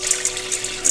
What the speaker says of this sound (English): pour out all the water.